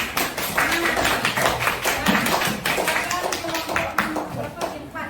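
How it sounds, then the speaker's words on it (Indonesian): Classroom group giving enthusiastic applause, a dense, steady run of hand claps that stays loud for several seconds before thinning out, with voices mixed in. "Kasihlah tepuk tangan yang semangat"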